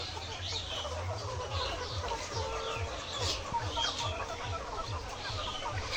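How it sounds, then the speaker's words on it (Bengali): Bovans White layer pullets, 78 days old, cluck steadily on a poultry farm, a rapid run of low, close, repeated clucks with busier background calls layered above. "এই মুরগিটা হচ্ছে ভোবানস হোয়াইট জাতের লেয়ার মুরগি"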